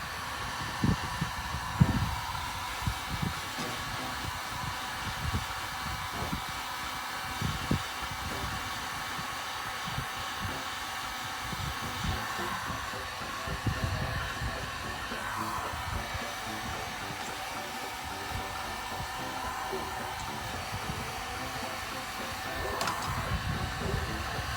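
A heat gun blows steadily on the metal fender of a 2003 Honda Civic EP3 during fender rolling, a continuous whooshing air-and-motor hum at moderate level, held without break throughout and close to the work.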